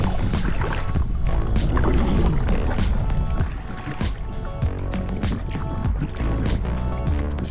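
A fishing kayak is paddled on open water off the Outer Banks in wind, with loud continuous splashing and rushing water, wind noise and strokes running together.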